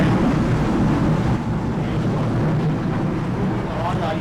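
Water rushes under pressure from a drain at a sewage pump site at night, a loud steady low roar with rumbling and wind buffeting the microphone.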